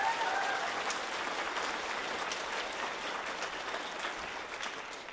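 An audience at a children's chorus concert applauds a choir member, a full, steady patter of clapping from a hall that slowly eases in volume.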